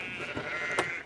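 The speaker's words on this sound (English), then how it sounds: "A lot of sheep lambing." Sheep bleating in a field at lambing time, a few short calls near and moderately loud with a sharper one late, over steady outdoor background.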